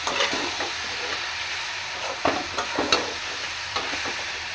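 Spices frying in a kadai, steady hiss with scattered scraping stirs and a few sharper clatters of the spoon against the pan, close and fairly soft, no voices.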